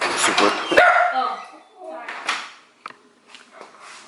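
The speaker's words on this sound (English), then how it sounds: "somebody rang the doorbell. Dog's going crazy" Loud, excited dog barks and yelps burst out at the start after the doorbell rings, then fade into a few scattered, quieter barks with a voice mixed in.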